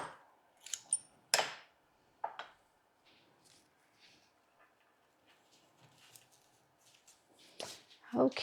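Scissors snipping a flower stem shorter while arranging flowers in a birdcage, with a few sharp close cuts early on, softer rustling and handling noises in between, and another burst of snips at the end, quiet and without talk.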